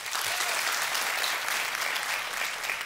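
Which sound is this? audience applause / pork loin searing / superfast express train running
audience applause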